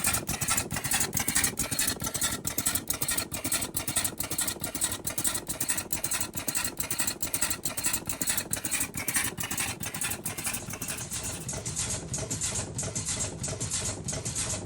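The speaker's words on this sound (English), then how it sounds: "we bring you Turkey's best cigarette rolling machine. Festo piston valves, our world brand, are used." A cigarette rolling machine with Festo piston valves runs continuously, producing a dense, rapid mechanical clatter of rhythmic ticks over a steady motor rumble, close and unbroken throughout with no voices.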